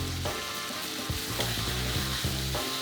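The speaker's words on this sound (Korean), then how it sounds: "그래도 어느 정도는 볶아줘야지 양파에서 단맛도 나오고 대파의 그 향기도 잘 올라오고 하니까 좀 볶아줍니다" Onions and green onions stir-frying in a pan, a bright sizzle with repeated scraping stirs every second or so, close and steady, no talk.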